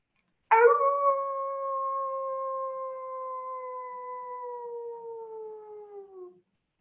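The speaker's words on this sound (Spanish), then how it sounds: "Ese aullido es una atmósfera sonora." A single long, mournful howl starts abruptly and holds a steady tone for about six seconds, slowly sliding lower as it fades; loud and alone.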